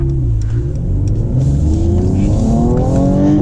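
A car engine accelerates hard in first gear, rising steadily in pitch as it revs up. The sound is loud and close, with no talking.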